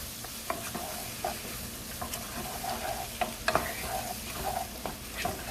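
Food stirred in a sizzling pan of seasoned jerk chicken cooking, with scraping utensil strokes and clinks over a steady fry, close up and without talking.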